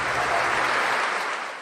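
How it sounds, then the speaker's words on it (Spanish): Brief burst of applause from clergy and religious for Pope Francis inside the cathedral in Havana, dense clapping from a crowd that holds steady and then fades at the end. "El Papa provocó los aplausos de religiosos y sacerdotes cuando en el encuentro en la catedral dejó a un lado la homilía preparada para hablar espontáneamente"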